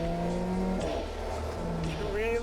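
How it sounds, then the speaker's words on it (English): A 2015 Alfa Romeo 4C sports car engine with a racing exhaust runs loud and close, a steady throaty drone with a rising rev near the end, under a voice talking. "The engine is right here."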